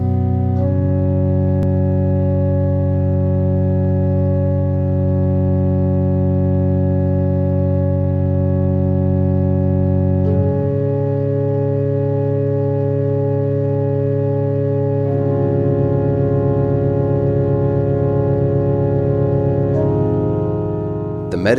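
Meditative music with sustained, layered harmonic drones that hold steady and shift chords slowly, playing continuously and alone.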